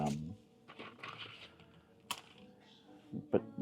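SteelSeries computer keyboard keys pressed in a handful of irregular, quiet clicks and taps, close by, with a few louder strikes spaced through a few seconds.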